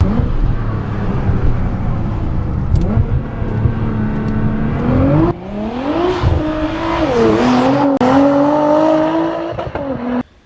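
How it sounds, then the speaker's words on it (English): A Nissan GT-R sports car is driven hard, its engine note climbing through repeated revs and gear changes, close and loud, with faint tire noise and brief gaps between pulls. "It's GTR, man, the car of all cars."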